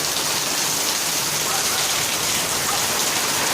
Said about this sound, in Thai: ลูกเห็บยังตกอยู่นะครับแต่ว่าน้อยแล้วครับนี่กระเด็นอยู่นะครับ